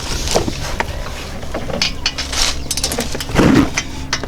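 A torque wrench tightens a caliper bracket on a 2007 Ford Taurus front brake, giving scattered metallic clicks and ratcheting clunks against a quiet garage background.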